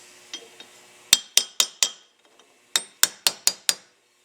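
A chisel is tapped against metal to drive a short plug out of an AMC V8 Carter M3158S carburetor: two light taps, then two quick bursts of four and five sharp, ringing hammer strikes.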